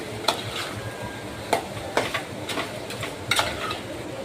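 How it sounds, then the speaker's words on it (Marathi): A spoon stirs fish curry with a fish head in a cooking pot, giving sharp, intermittent scrapes and clinks against the metal over a quiet, faintly bubbling background. "व्यवस्थित ढवळून घ्यायचं आहे."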